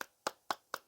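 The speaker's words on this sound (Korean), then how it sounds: "박수" Four sharp hand claps, evenly spaced about a quarter second apart, sounding close and alone with no talk.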